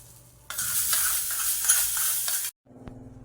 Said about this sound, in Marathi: आता हे जे तडका आहे तो आपण आता आपल्या नारळाच्या चटणीमध्ये ओतून घेऊयात.